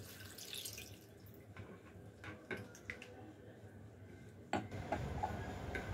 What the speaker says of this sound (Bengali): এবার জল দিয়ে খুব ভালোভাবে ধুয়ে নেব।